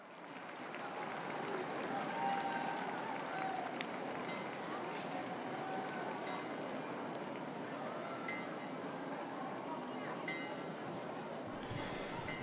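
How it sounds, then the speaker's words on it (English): A large crowd welcomes Pope Francis at the Angelus prayer on 15 August 2023, a dense and continuous wash of applause and crowd noise that holds steady and sounds distant throughout. "We join the crowds as they welcome him"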